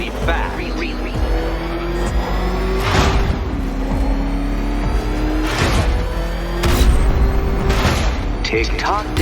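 The Batmobile's engine in Batman: Arkham Knight roars and revs repeatedly, with several heavy booming bursts and surges of acceleration under a speaking voice.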